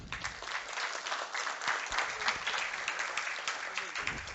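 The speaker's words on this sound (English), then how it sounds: "And a big round of applause for Varun." Audience at a conference talk breaking into sustained applause, a dense wash of many hands clapping at an even level for several seconds, with faint voices mixed in.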